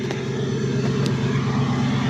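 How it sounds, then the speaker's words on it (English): A truck engine idles as it warms up on a farm, a steady low rumble close by with a faint clatter, running continuously without rise or fall. "Truck's warming up."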